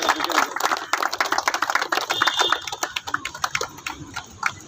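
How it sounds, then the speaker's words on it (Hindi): Dense audience applause at a ceremony where a gardener is honoured, many hands clapping at close range in a steady, loud burst that gradually thins into scattered claps. "उनके लिए भी जोरदार तालियां"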